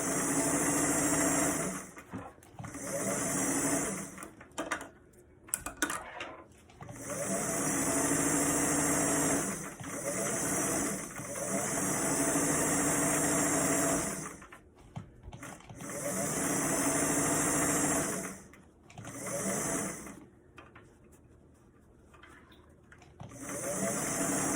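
A sewing machine stitches around the brim of a bucket hat, running in bursts of steady whirring hum broken by short pauses.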